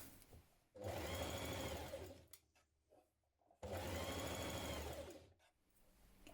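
A sewing machine hems a blouse sleeve in two steady bursts of fast, whirring stitching, close and clear, with a short pause between them.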